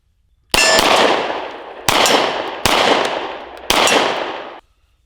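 Four loud, sharp 9mm pistol shots from a Kiger handgun crack out one after another at an outdoor range, each followed by a ringing clang of steel man-sized targets about 25 yards away, with short pauses between.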